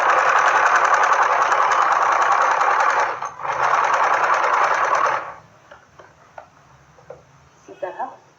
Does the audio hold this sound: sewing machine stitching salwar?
yes